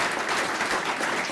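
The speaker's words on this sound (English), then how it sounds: "how about a round of applause for David Morgenthaler, one of the pioneers" Audience applause after a political speech, a brief, dense patter of clapping that holds steady throughout.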